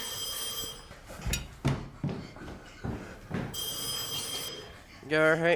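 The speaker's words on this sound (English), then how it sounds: "Better pick up the phone." A telephone ringing in a horror video game, repeated bursts of bright electronic bell tones with pauses between them, heard among thumps and voices talking.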